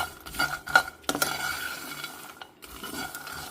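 Peanuts and sesame seeds roast in a pan while a metal spoon scrapes and clinks against it in short irregular strokes, close and fairly quiet.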